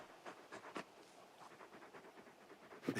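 A large dog in the Final Fantasy 16 video game pants softly in quick, rhythmic breaths, faint and close, with no talking over it.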